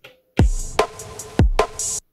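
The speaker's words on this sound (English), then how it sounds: "It's just a really simple beat, but we're gonna slice it up" Simple drum beat sample played back on an Elektron Digitakt: two bars of punchy deep kicks with snappy snare hits and short bright hi-hat ticks, loud and close, alone with no talking.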